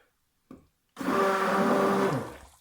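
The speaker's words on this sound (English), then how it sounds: "now I'm stirring it down here to get all the charcoal in" A stick blender whirs into hot process acne soap to mix in charcoal: a short knock, a pause, then a loud steady motor drone lasting about a second before cutting off.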